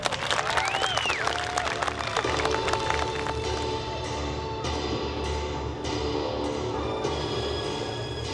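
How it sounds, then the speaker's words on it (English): Audience applause at a martial arts demonstration during a cherry blossom cultural festival in Torrance, a steady wash of clapping from a crowd that carries on for several seconds with no talk over it. "give everybody a round of applause"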